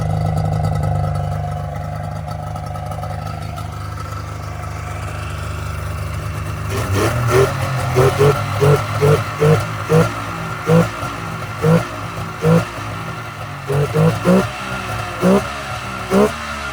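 A 1995 Polaris XCR 600 snowmobile engine with leaking carburetor floats runs close by, idling steadily and then blipped again and again in short, sharp revs that rise and fall in a regular rhythm.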